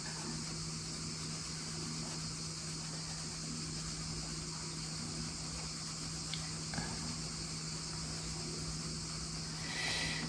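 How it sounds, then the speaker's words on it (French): Cicadas buzz in a steady, continuous drone in the background, fairly faint and unbroken throughout, with no speech over it. "Donc vous aurez le bruit certainement des cigales."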